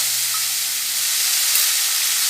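Ginger paste dropped into spices frying in oil for a vegetarian cabbage curry, giving a steady, close sizzle with soft hiss that holds evenly throughout, no voices.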